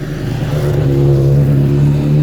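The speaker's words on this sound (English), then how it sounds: "sorry about that bike noise. The road is actually busy right now." A loud motorbike engine drones steadily close by, its pitch rising slightly as it accelerates past on a busy road.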